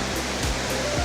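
A waterfall, New Zealand North Island's tallest, gives a steady, loud, broadband roar of falling water with no voices over it.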